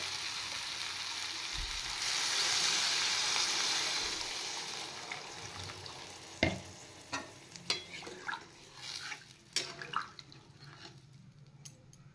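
Water is poured into spices frying for a bottle gourd curry, giving a loud rushing hiss that settles down. The pan then bubbles and sizzles while a spoon stirs with scattered wet clinks and scrapes.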